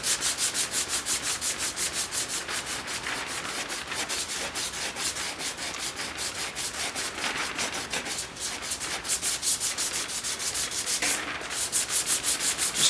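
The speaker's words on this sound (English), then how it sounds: "Just gonna sand until this repair feather edges in real nice." Steady rhythmic hand sanding on a gouge repair in the plastic front bumper of a 2013 Toyota Tacoma, close and continuous back-and-forth scratching strokes with no talk.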